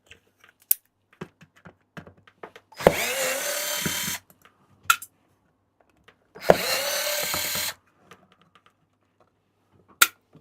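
An electric screwdriver or drill backs screws out of an amplifier chassis during electronics repair, giving two loud whirring bursts about a second long each, separated by scattered clicks and small metallic taps, close up with no voices.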